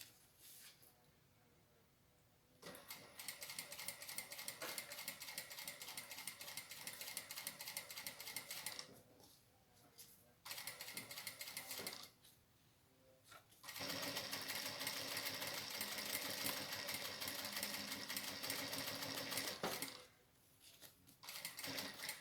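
A sewing machine sews slowly along an emoji toilet paper holder in several long runs of rapid, ratcheting needle clatter, separated by short quiet pauses.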